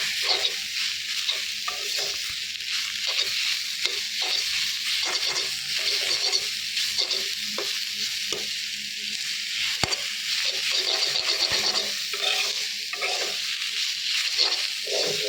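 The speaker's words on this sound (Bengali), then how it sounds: "আমি সুন্দর করে ভেজে নিলাম" Salt-boiled helencha greens frying in a pan, a constant close sizzle overlaid with rhythmic, evenly spaced stirring scrapes throughout.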